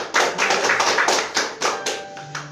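A church congregation claps their hands together, a loud, fairly rhythmic burst of applause from many people close by, with a faint sustained tone under the last moments.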